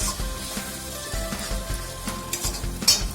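Egg curry gravy with tomato ketchup is stirred and sautéed in a pan, giving a steady close sizzle broken by repeated spoon scrapes and soft clinks, no voices.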